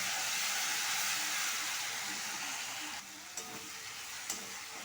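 Cumin, curry leaves, and ground chili and garlic paste sizzle steadily in hot oil, a dense continuous frying hiss that eases slightly partway through, with a couple of faint clinks near the end.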